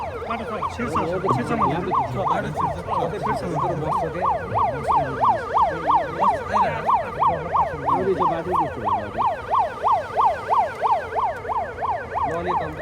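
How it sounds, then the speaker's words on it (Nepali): An ambulance siren wailing loudly and nearby in a steady, rapid rising-and-falling cycle, with traffic and crowd noise underneath. "एम्बुलेन्स हो एम्बुलेन्स"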